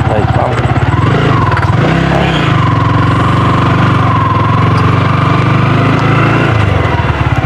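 A motorcycle engine runs loud and steady, close by, with a slight rev partway through and voices faintly underneath.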